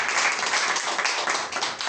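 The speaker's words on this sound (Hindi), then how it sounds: "ताली बजाइए।" Audience applause at a certificate presentation ceremony, a steady wash of many hands clapping continuously for about two seconds with no pauses.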